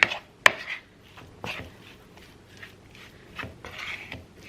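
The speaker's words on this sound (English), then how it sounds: "I'm gonna stir this together." A spoon stirs basil, salt and pepper together in a bowl: a few sharp clinks against the side, then softer scraping swishes, close and fairly quiet.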